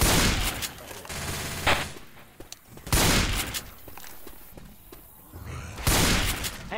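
Rapid gunfire bursts from a Left 4 Dead 2 zombie shooter on the Parish campaign, loud volleys of shots repeating every few seconds with brief lulls and clattering between them.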